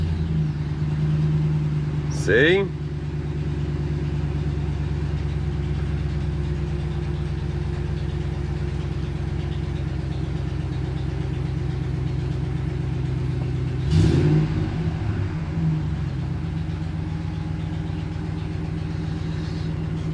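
A 2009 Hemi Ram 1500 engine, after cam and crank sensor replacement, idles steadily and close up with an even rumble throughout, broken by two short bursts of louder noise and a brief spoken word.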